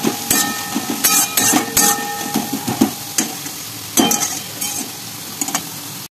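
Leafy greens fry with potato and chilli in a hot kadai, a soft sizzle running underneath while a spatula scrapes and clatters against the metal in sharp, irregular strokes that fade toward the end.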